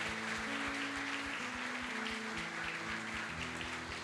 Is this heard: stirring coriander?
no